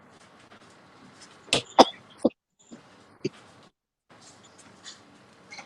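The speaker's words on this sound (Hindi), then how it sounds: "जल्दी से गला साफ करें" A few short, sharp throat-clearing coughs close by in a quiet room, followed by softer scattered rustles and small noises.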